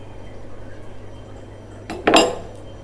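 Aloe vera gel paste is mixed in a bowl with a couple of capsules for a skin remedy: one brief clatter of stirring against the bowl rises late, over a low steady background hum.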